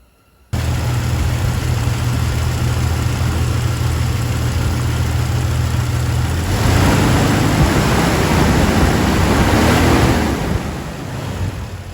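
A Jeep XJ engine swapped into a TJ runs steadily at idle, a loud continuous low rumble close by with heavy wind-like hiss, the level rising slightly partway through before easing off.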